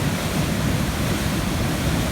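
A waterfall in Yellowknife in August roars with a steady, dense wash of rushing water that stays constant and loud throughout.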